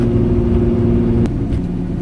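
A Lamborghini Diablo cruises with its engine rumbling steadily from inside the car, a loud low drone with a steady tone that shifts slightly partway through.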